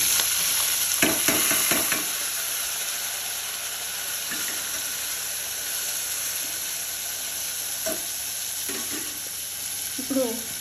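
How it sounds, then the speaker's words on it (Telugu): Tomatoes added to a pan of frying green chillies, a steady background sizzle with a burst of clattering at the start, then sparse spatula scrapes and knocks near the end. "దీని తర్వాత టమాటాలు వేస్తున్నాను."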